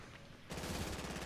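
Gunfire in the Fortnite video game starts abruptly partway through as rapid, continuous automatic fire, fairly faint and somewhat distant.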